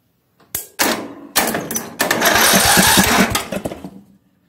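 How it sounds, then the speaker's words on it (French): A riding lawn mower's engine is cranked by bridging the terminals of a failed starter solenoid. It gives a few short starter bursts, then catches and runs steadily and loudly for a couple of seconds before cutting off. "Voilà, notre moteur se lance."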